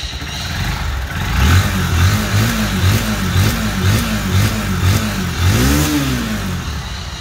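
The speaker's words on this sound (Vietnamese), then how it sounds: "xe đang nổ máy em nhá" A motorcycle engine idling close by, its pitch rising and falling as the throttle is repeatedly blipped in a series of short revs.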